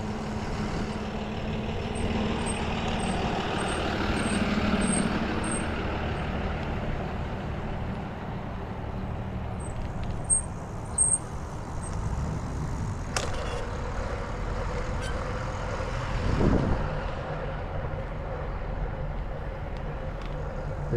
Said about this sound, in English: There's an old Raptor truck.